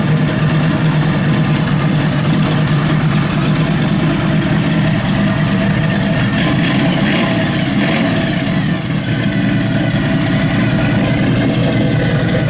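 A 1969 Chevrolet Nova's engine runs steadily at idle close by, a loud continuous rumble with no notable revving and no voices.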